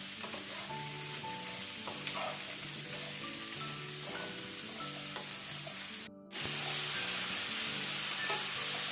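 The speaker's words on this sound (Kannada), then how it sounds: "ಈಗ ಇದನ್ನು ಮೀಡಿಯಂ ಟು ಹೈ ಫ್ಲೇಮಲ್ಲಿ ನಾವು 2 ಮಿನಿಟ್ಸ್ ಫ್ರೈ ಮಾಡ್ಕೊಳ್ಳೋಣ" Bitter gourd (kantola) fries in a pan over a medium-high flame with a steady, hissing sizzle and occasional stirring clicks under soft background music. After a brief dropout the sizzle returns louder and brighter.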